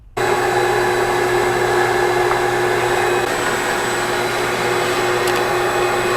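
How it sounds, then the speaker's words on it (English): A loud, constant vacuum cleaner drone runs steadily from start to finish, a high whine over a low motor hum, with no talking, as it sucks up debris broken off golf cart batteries. "use the vacuum to catch any of the debris"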